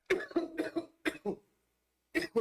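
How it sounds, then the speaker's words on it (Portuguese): Someone coughs in a rapid burst of about six harsh, close coughs, falls silent for a moment, then coughs twice more; no speech. "Desculpa, eu vou dar uma tossida aqui, vou ter que regravar."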